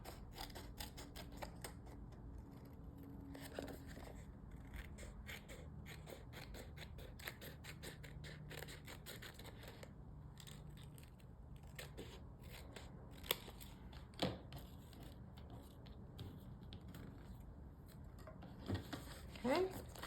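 Scissors trim the edge of glued paper on a handmade card envelope, a few soft snips and paper rustles, close and quiet, with faint low background hum throughout.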